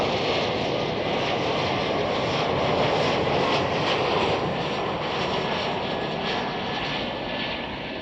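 A Qatar Airways Boeing 777-300ER jet on departure at Chicago O'Hare Airport, a loud, steady broadband engine roar that holds constant throughout with no talking.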